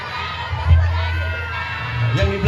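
A festival crowd in Cirebon shouts together in a loud, sustained collective cheer, rising briefly near the start and again toward the end.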